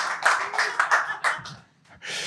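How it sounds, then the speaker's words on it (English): Live audience clapping at a podcast taping in New York, bursts of applause rising and falling over about two seconds with a brief lull before another burst. "Let them clap for me"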